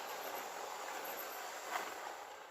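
Hornby model train of 23 coaches hauled by a Class 47 diesel starting to move on a temporary layout, a faint, steady motor whir and hiss with a slight squeal partway through, no talk.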